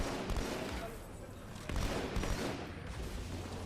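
Rapid gunfire crackles in the first-person shooter Halo 2 Anniversary, dense bursts and bangs layered over continuous battle noise, fairly quiet and steady throughout.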